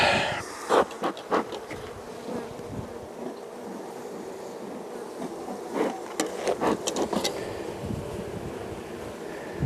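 Many honeybees buzz close by at an open hive in a constant drone, with occasional louder passes near the microphone and a few light knocks as frames are moved with a hive tool.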